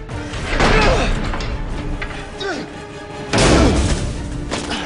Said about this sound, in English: This is just all our hits. So anything that's just just kind of a big impact.